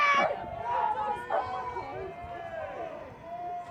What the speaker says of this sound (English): another cheer now